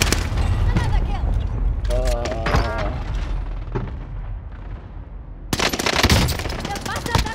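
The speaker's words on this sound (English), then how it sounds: "The bastards are shooting at me!" Automatic and single gunfire in the video game Warzone (Resurgence mode), dense bursts of shots throughout with a loud volley near the end, with a player shouting over it.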